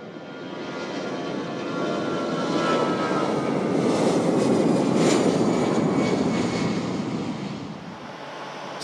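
An airplane at Surgut airport roars past during takeoff or landing, its loud engine noise building to a peak midway before easing off again, with no voices.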